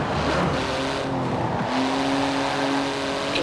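Porsche GT2 RS with magnesium wheels and titanium exhaust driven in the racing game Forza Horizon 4, its engine holding a loud steady note that climbs in pitch, with tire squeal along the way.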